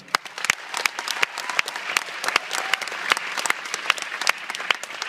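An audience claps on its own, sharp individual hand claps coming in a steady, scattered patter at moderate loudness with no voices over them.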